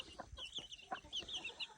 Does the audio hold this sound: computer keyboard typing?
no